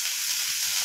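Pond fish frying in hot oil in a pan, a brief steady hiss and sizzle, close and fairly quiet, with no talking.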